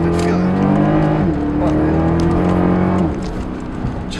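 Mercedes-Benz E63 AMG engine pulling hard, a loud, close, steady roar that shifts up in pitch partway through, then eases off into a lower drone.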